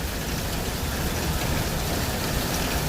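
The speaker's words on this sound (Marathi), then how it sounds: "असा हा पडला पाऊस तुडुंब" Heavy rain pouring steadily in a downpour that flooded market streets, a dense continuous hiss at even loudness with a low rumble underneath, no voices.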